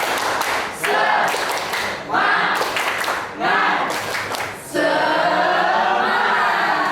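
A classroom group does a rhythmic spirit clap in three quick bursts of patterned clapping separated by short pauses, followed by a steadier sustained sound with no clapping.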